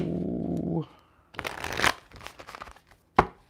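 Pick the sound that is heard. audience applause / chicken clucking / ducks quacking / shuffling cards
shuffling cards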